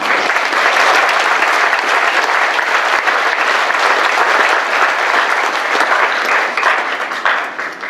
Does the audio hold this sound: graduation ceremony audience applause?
yes